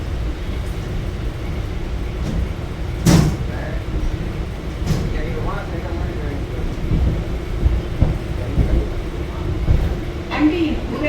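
Interior of a moving local train: a steady low rumble and rattling of carriage and track, with occasional clanks and thumps, loud and continuous, and a faint voice in the background.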